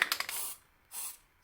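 Cleaner sprayed onto a wood burner during a service, with a few quick trigger clicks and a short spray burst, a pause, then a second brief spray, close and fairly quiet.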